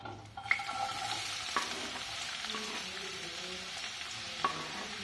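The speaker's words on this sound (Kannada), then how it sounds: "ಮೊದಲು ಎಣ್ಣೆ ಒಳಗೆ ಸ್ವಲ್ಪ ಈರುಳ್ಳಿ ಫ್ರೈ ಆಗಲಿ" Chopped onions frying in a few spoons of oil with steady close sizzling and occasional stirring scrapes, with no talk, as the first step of a Karnataka-style mutton sukka.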